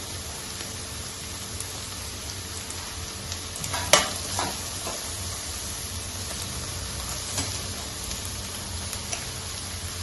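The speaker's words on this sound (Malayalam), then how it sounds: "നന്നായിട്ട് നമുക്ക് വഴറ്റിയെടുക്കാം. ഉള്ളിയും കൂടെ ഇടാം." Onions and garlic sauté in hot oil for a salmon curry in coconut-cashew gravy, giving a steady close sizzle with a spoon stirring and scraping now and then, one sharper clatter partway through, and no voices.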